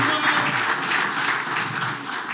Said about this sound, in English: let's give a big round of applause for Ungayo Bilam, the wonderful MC, ICBC